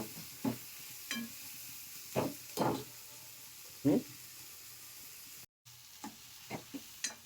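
Onions fry lightly in a pan with a soft, low sizzle, broken by several brief scraping stirs and clatters at uneven intervals.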